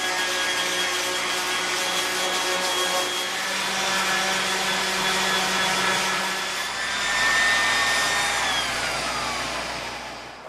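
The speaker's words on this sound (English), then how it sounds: "we're going to go with 100 grit sandpaper on our random orbital palm sander" Random orbital palm sander fitted with 100 grit sandpaper working on rustic log wood, a steady close, loud motor whine with a shifting high pitch that drops as pressure changes, no voices.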